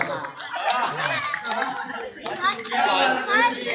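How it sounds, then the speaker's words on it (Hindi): A stage audience at a Hindi comedy poetry show claps and laughs, a dense, lively wash of applause and chatter that swells and dips across the whole clip. "जोरदार तालियां बजाओ"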